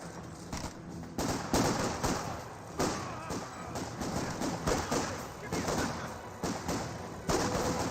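Gunfire rattles through a Company of Heroes 2 battle, with scattered shots and bursts repeating over the whole stretch at moderate loudness, mixed with the din of the fight and a voice talking underneath.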